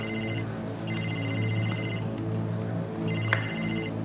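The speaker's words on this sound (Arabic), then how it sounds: "عايزك ترد على تليفونك." A mobile phone rings in a drama scene, a repeating electronic ringtone with bursts of bright beeping tones over a steady background hum, moderately loud and close, with no talking.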